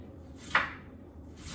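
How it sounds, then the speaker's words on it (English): Knife chopping onions into small pieces on a cutting board, two crisp separate knife strikes about a second apart, close and clear with quiet room noise between. "I'm gonna cut these onions up real thin"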